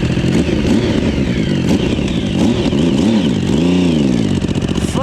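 A Yamaha Raptor ATV swapped to a 1050cc engine revs hard and loud throughout, its pitch climbing and falling in repeated swells with a rough mechanical clatter under the roar.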